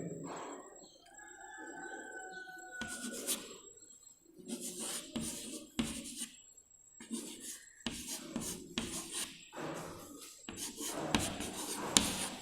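Hand-writing numbers for a sixth-grade maths lesson, with short bursts of pen or chalk strokes scratching at close range, separated by brief pauses.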